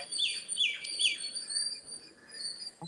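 Shrill bird calls ring out a few times over a steady background hum, sharp squawking notes fitting a parrot, moderately close.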